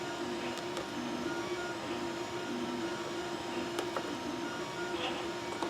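Singer sewing machine zigzag stitching an eyelet in fabric, a steady close mechanical hum with a faint rhythmic ticking running evenly throughout, occasional light clicks, no voices.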